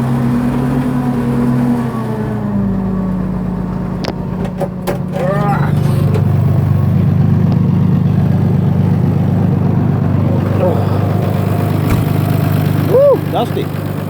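A Case 1690 tractor pulls a disc harrow across a field, its engine a steady, loud mid-range drone throughout, with some rattling of the implement and a brief voice near the end.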